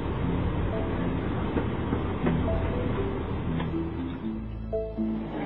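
Steady rumble of a moving train heard from onboard, heading through the Devon countryside to Barnstaple, with rhythmic clickety-clack of wheels over rail joints and occasional faint squeals.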